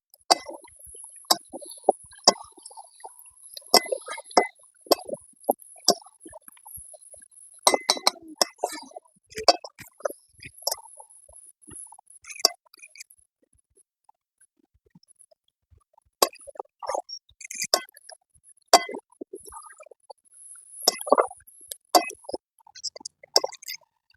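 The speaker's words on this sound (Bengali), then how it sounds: "ভালো করে নাড়াচাড়া করবো কষে নেবো জিনিসটা" Jackfruit and prawn curry being stirred and sautéed in a pan, with repeated sharp clinks of a utensil against the metal in irregular bursts, fairly close, broken by a quieter stretch midway.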